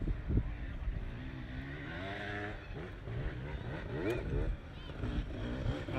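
A Red Bull KTM enduro motorcycle revs through a wooded extreme race course, its engine rising and falling in pitch at moderate distance beneath a commentator's voice.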